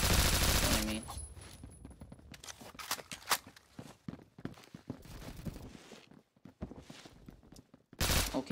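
Video game gunfire in an online shooter: a loud burst opens, then scattered shots and rattling bursts of varying distance with footstep-like thuds, ending in another loud volley.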